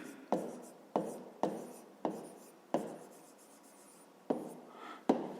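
A pen writing by hand on paper during a fifth-grade maths exercise on decimal place values, heard as a series of short, close scratchy strokes in bursts with brief pauses, with no talk over them.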